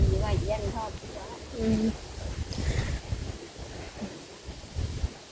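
Strong wind gusts through tall banana trees outdoors, a rough rumbling rush with buffeting noise across the microphone, while people talk over it at the start and intermittently.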